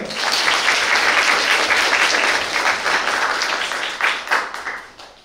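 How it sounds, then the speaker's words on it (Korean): Audience applause at an academic forum on AI and copyright, as a law professor is introduced: dense, loud, sustained clapping from a hall crowd, tapering near the end. "여러분 박수 보내주세요"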